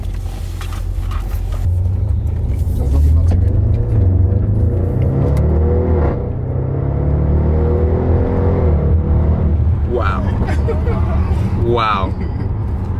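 A four-wheel-drive car on a test drive accelerates hard with a loud, close engine rumble from inside the cabin, as people talk over it.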